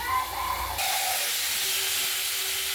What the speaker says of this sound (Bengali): আলু শিমগুলোকে আমরা ভেজে নিচ্ছি দেখতে পাচ্ছেন